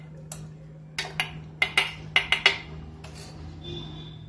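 Metal idli stand molds are greased with ghee, and a quick series of light metallic clinks and taps comes close up in an irregular rhythm, about eight in all, in a quiet room.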